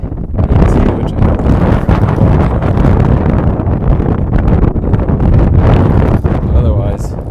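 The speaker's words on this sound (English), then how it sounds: "It's very windy." Strong wind buffets the microphone on a mountain summit along the Appalachian Trail, a loud, continuous rumbling roar with gusty surges, and a voice briefly speaks underneath.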